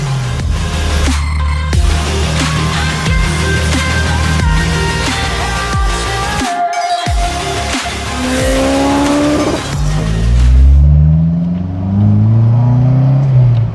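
A supercharged Honda S2000 with HKS parts accelerates hard through the gears on the road, engine revving high and loud, with tire squeal and gear shifts, close and continuous.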